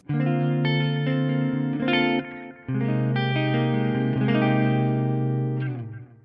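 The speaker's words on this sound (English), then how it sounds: "I could add some delay to this." Clean electric guitar played through a pedal board with delay, sustained chords ringing with echoing repeats and a brief dip midway, loud and alone with no talking.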